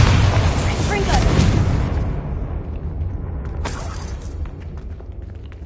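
A Bombarda blasting spell goes off in a Harry Potter video game, a loud booming burst with a crackling tail that fades over a few seconds, followed by a fainter second pop.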